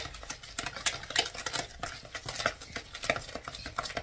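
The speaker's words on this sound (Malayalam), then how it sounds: "നന്നായി ഒന്ന് മിക്സ് ചെയ്യാം." A sweet mixture of blackberries and sugar is stirred in a pan, giving a run of soft scraping and light clinking strokes at close range with no talking.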